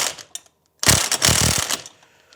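A wrench ratcheting on double nuts locked onto a steel stud to back it out: a few faint clicks, a pause, then a loud burst of rapid, close ratchet clatter with heavier knocks, trailing off.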